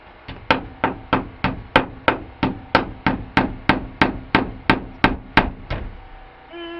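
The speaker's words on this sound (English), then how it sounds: "So I'm just going to put in a small nail by that one." Hammer blows drive a small nail, about fifteen sharp, evenly spaced strikes close to the microphone, loud and alone, ending in a brief quiet.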